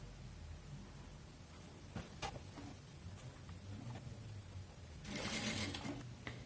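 A sewing machine quietly stitches a patchwork block, a soft rapid whir with a few clicks and a brief louder burst near the end, heard close by without talk.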